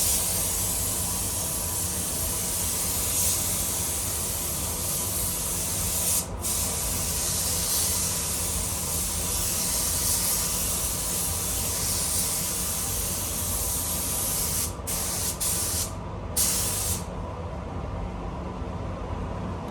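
Spray gun laying lacquer onto a Honda Integra DC5 in a paint booth: a steady, loud hissing spray runs nearly the whole time, broken by a few brief pauses near the end.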